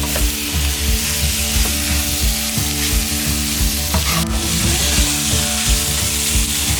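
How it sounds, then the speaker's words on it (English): Meat frying in its own rendering fat in a pan for an indigenous Sri Lankan Veddha-style dish, a steady close sizzle with scraping stir strokes throughout and no talking. "Make sure that it doesn't burn off at the edges, so you have to keep stirring it."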